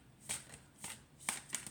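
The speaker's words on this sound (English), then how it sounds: "Let's see how it shuffles." Dark Mirror Oracle cards riffled in a quiet room, several short papery bursts of shuffling spaced about half a second apart, close and soft with no voices.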